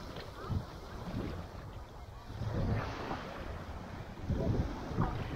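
Ocean waves heard from the deck of the cruise ship Carnival Legend, a steady wind-blown wash with a few swelling surges, moderately loud and without talk.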